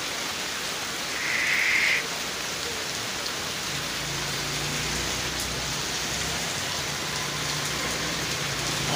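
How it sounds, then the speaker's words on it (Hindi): Heavy rain pours steadily in Multan, a dense continuous hiss of drops on surfaces that runs unbroken throughout, with a brief higher chirp early on and no talking. "मौसमी हालात बहुत तेज़ बारिश शुरू है।"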